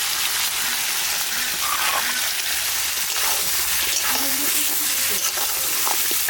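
Ground spice paste added to fish already frying in oil gives a loud, steady sizzle and crackle, with faint stirring clatter over it.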